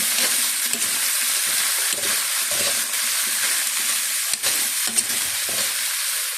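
Sautéing in an old, well-used pan while cooking chayote: a steady close sizzle and hiss with the scrape of a utensil stirring every second or so, no voices.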